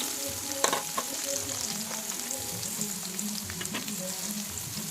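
Chopped onions and green chillies frying in hot oil, a continuous close sizzle with occasional stirring scrapes and small crackles, no voices.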